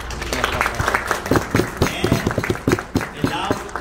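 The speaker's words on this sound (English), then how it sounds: "So a big round of applause first for all of you." An audience at a mosque gathering honoring volunteers breaks into applause, a dense, uneven patter of many hands clapping at close range, with some voices mixed in.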